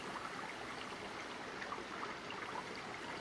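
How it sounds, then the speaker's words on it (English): A river rushes steadily and softly past a dock, a continuous gentle burble, with no other sounds. "You can hear the gentle rush of the river."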